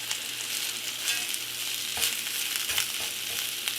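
A pound of beef browns in an overcrowded pan for Mongolian beef and peppers, giving a steady, close hiss of frying with a few brief stirring scrapes.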